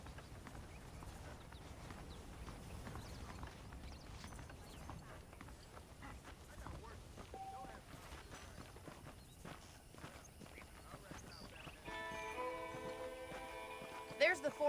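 Horse hooves clip-clop at a steady walking rhythm while riding in the Red Dead Redemption video game, quiet and even. The hoofbeats sit under faint background sound, and a few brighter tones come in near the end.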